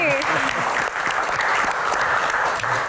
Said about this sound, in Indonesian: Kita berikan tepuk tangan yang paling meriah untuk Gian dan Pak Muhadjir Effendi.